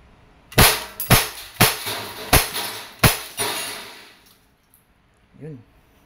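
An Umarex Glock 17 Gen 3 airgun pistol fires five sharp, loud shots at a close target, spaced roughly half a second apart. Each report rings out briefly, and a short low sound follows after a pause.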